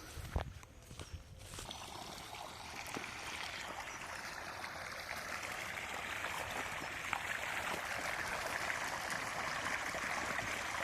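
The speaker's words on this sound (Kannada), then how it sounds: "ಬೋರ್ವೆಲ್ ಓಡ್ತಾ ಇರೋದು ನಿಮಗೆ ತೋರಿಸ್ತೀನಿ." Borewell pump running on a coconut farm near Bannur, with water gushing out in a steady, loud rushing flow throughout and a few brief knocks at the start.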